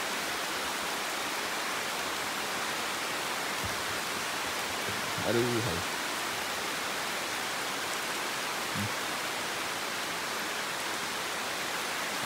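Heavy daytime rain pours steadily at a riverside fishing camp, a dense continuous hiss, with a brief exclamation from a person partway through.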